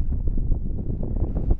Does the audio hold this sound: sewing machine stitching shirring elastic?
no